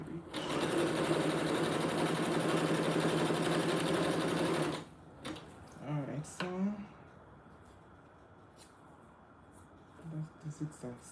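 A sewing machine runs a zigzag stitch on doll clothes in one loud, steady, close burst of about five seconds and then stops, leaving quiet handling sounds and a few soft voices.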